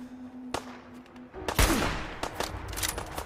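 Heavy gunfire from a powerful gun in Fallout 4: a sharp shot near the half-second mark, then a loud booming blast followed by a dense run of rapid, close shots and impacts.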